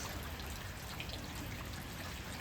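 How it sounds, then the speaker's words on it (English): Steady rain falls outside an Idaho greenhouse and collects in puddles, a continuous wet patter close by with no voices. "Show you the rain."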